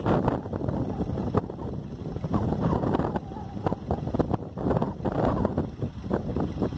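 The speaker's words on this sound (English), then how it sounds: "Unfortunately, it's super windy." Strong gusting wind batters the microphone outdoors in Arizona, loud buffeting thumps and roaring rumble that rise and fall unevenly throughout, close and harsh, with no clear talk.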